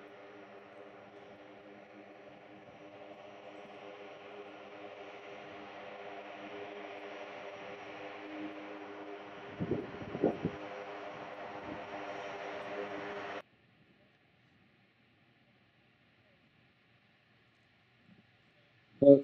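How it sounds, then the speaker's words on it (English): A Lockheed Martin LM-100J Hercules, newest of the C-130J Super Hercules family, begins its takeoff run at the Farnborough International Air Show, a steady, fairly distant turboprop drone with a brief rumble burst that cuts off abruptly. "Starting its takeoff run, this is the very latest, newest member of the C-130J Super Hercules family."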